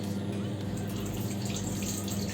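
Water runs from a tap during handwashing, a steady splashing flow with a low gurgling hum underneath, close and continuous without a break, and no one talking over it.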